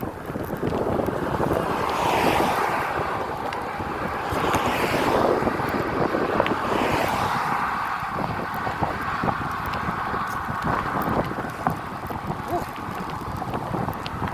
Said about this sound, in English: Now I'm back to that 3 mile per hour headwind.